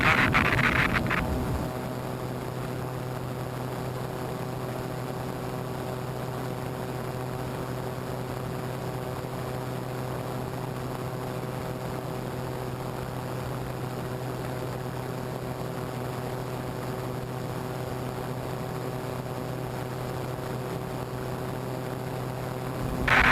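A light aircraft engine cruises in level flight at steady RPM, a constant, even droning hum with a tonal whine that holds unchanged throughout, with no talking.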